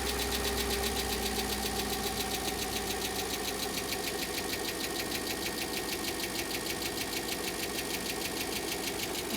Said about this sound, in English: It's just gone straight to tick over from cold start